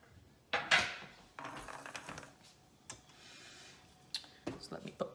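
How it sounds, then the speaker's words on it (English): Cheesecake filling is scraped from a bowl into a pan, giving close, irregular scrapes, taps and clinks of utensil against dish, with quiet pauses between strokes. "I'm just gonna scrape my filling in there"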